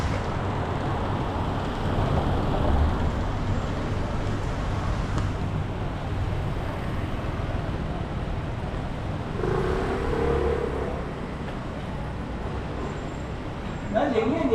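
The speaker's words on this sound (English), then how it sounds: "let me get out of the way for this car coming" A car drives up a narrow street in Macau, a steady engine and tire rumble close by that swells slightly as it passes, with a voice talking over it.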